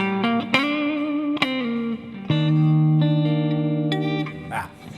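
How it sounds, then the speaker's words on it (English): Electric guitar notes and chords ring out with a lush reverb tail, each strike sustaining and decaying into a spacious wash. "let's say I turn that reverb back on"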